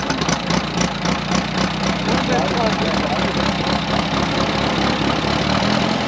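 An Allis Chalmers 10-18, an early production farm tractor, runs steadily at idle with a low, even chugging close by, with people talking nearby.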